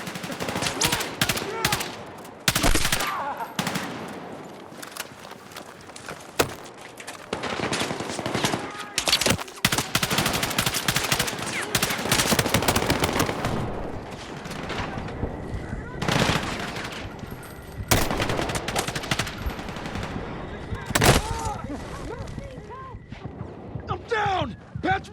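Heavy gunfire fills a Battlefield 6 campaign battle in the Moving Mountains mission: dense, loud bursts of automatic and single shots cracking almost nonstop, with game voices shouting underneath.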